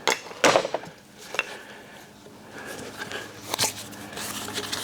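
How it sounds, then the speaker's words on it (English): A screwdriver pries open the lid of a large rock tumbler, giving a few sharp metallic clicks and light scraping knocks spaced irregularly over a quiet background. "What we need to do is use a screwdriver to open it up."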